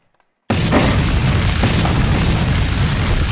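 A propane tank blows up in a Western town with a sudden loud boom after a brief silence, followed by a sustained roar of burning and debris that stays loud throughout.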